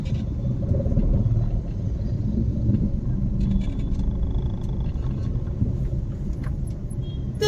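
A car accelerates during a driving lesson, its engine a steady, low rumble heard from inside the cabin, holding an even level with a slight swell throughout.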